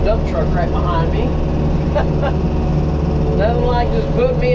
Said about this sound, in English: Now I have a dump truck right behind me.